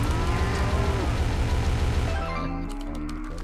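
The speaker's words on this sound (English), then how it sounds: "let's get these cows over there" Cows in the game Rain on Your Parade moo loudly several times in a row over a steady background hum, with the lowing calls overlapping as the herd is moved along.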